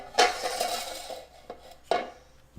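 A spoon scraped against the rim of a bowl of chocolate chip cake batter, two sharp clinking strikes about two seconds apart with softer scraping between, close and fairly quiet.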